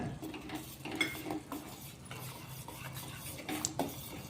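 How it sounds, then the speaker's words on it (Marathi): Soft scraping and clinking of a spoon stirring a sugar syrup in a pan on low gas, an irregular quiet rhythm with faint metallic taps, close by, no talk. "हा मी कमीच गॅस ठेवलेला आहे त्याच्यावर सतत ढवळत राहायचं आहे"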